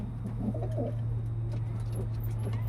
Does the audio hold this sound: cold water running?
no